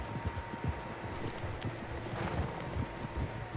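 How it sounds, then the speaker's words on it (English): Several horses walk in Red Dead Redemption 2, their hooves clip-clopping in a steady, overlapping rhythm, close and moderately loud over a low ambient hum, with no talking. "Horses, quite a few of them."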